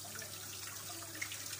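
Hands being washed under a running kitchen tap, a steady close hiss of flowing water with faint splashes throughout, no voices.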